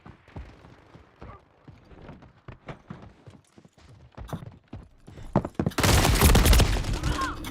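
Call of Duty Modern Warfare 3 beta gunfire rattles off in scattered sharp shots and short bursts, then erupts into a dense, loud sustained volley near the end.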